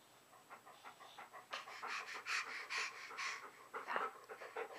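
A dog pants in quick, rhythmic breaths, close and steady, with a faint whimpering edge and no talk over it.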